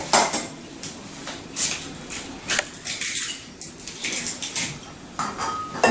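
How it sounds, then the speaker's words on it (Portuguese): A whisk or fork beats three eggs with a pinch of salt in a bowl, giving quick irregular clinking and tapping strokes against the bowl, close and clear with no talking. "E vamos bater o ovo com um pouquinho de sal"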